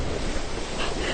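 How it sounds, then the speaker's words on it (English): Steady roar of ocean surf on a snowy Rhode Island beach after a snowstorm, a dense continuous wash of breaking water mixed with wind buffeting the microphone, close and loud throughout. "I love the sound of the ocean."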